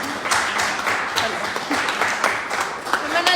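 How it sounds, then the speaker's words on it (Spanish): A congregation claps at a church teaching session, a dense, steady wash of applause at moderate volume that continues throughout without a break. "un aplauso."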